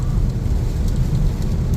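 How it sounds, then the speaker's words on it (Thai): Heavy rain pelts a waxed Chevrolet Aveo in Chanthaburi, Thailand: a steady, dense hiss with a deep drumming rumble underneath, loud and unbroken throughout, with no voices. "ฝนตกลงมา นะครับ หนาเม็ดเลยทีเดียว"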